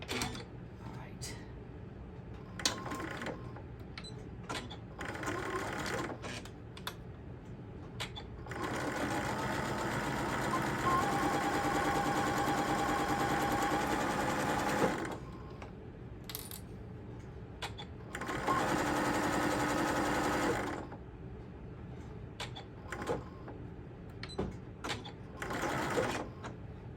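A sewing machine stitches the seams of a puppy dog tote bag in two long, steady whirring runs, with shorter bursts of stitching and small handling clicks and a voice speaking in the gaps.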